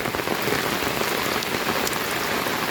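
Heavy monsoon rain pours down in Rajapur in the Konkan region, a dense, steady, close patter drumming on surfaces without a break, with no voices.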